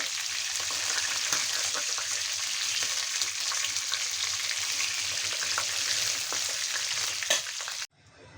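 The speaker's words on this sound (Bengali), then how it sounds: "আমি তেল ঝরিয়ে চিকেনগুলো সব উঠিয়ে নিচ্ছি" Chicken pieces for Kashmiri chicken masala fry in hot oil with a loud, steady sizzle and occasional stirring clinks, then the frying noise cuts off abruptly as the pieces are lifted out of the pan.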